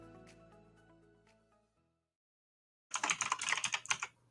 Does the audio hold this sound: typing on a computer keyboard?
yes